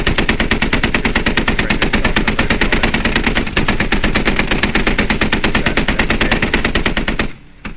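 Sustained automatic gunfire from a video game firefight, a striker vehicle unloading on a forward operating base, rapid continuous bursts loud and close for about seven seconds before cutting off abruptly.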